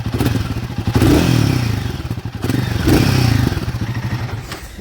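A Royal Enfield Guerilla 450 motorcycle engine idles close by, a steady, smooth low thumping with slight swells in level and no talk over it.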